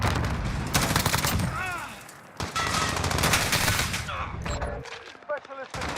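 Rapid automatic gunfire bursts from a competitive first-person shooter match in Hardpoint mode, loud and dense, overlapping with an excited commentator talking throughout.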